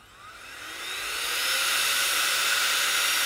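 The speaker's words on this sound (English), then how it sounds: "It is a very strong blower at number two." A Nitecore BB21 electric blower spins up to power level three, its high whine rising quickly in pitch and loudness, then holding as a strong, close rushing hiss.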